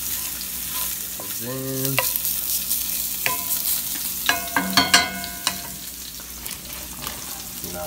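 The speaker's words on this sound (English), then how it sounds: "Saute your shallots for about a minute or so, then add your garlic and then your spinach." Shallots, garlic and spinach sizzle in a hot pan while being stirred, with scraping clicks and a voice speaking briefly over the frying.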